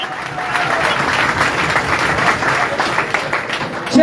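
Steady, dense applause from an audience at an outdoor prize-giving ceremony in Sanghla Hill, clapping continuously and loudly throughout with some crowd murmur mixed in.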